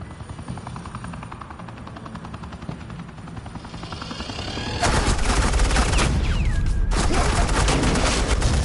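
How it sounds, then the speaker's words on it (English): Suppressing gunfire in the Batman: The Telltale Series game, a dense, loud automatic barrage that bursts in after a steady mechanical drone and keeps going with a short gap, sitting close and harsh. "Suppressing fire."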